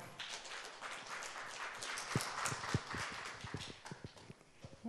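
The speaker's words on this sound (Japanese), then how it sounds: "改めまして皆様拍手でお迎えください" A small audience at a community college forum in Arakawa claps to welcome a speaker, a faint, scattered patter of individual claps that thins out toward the end.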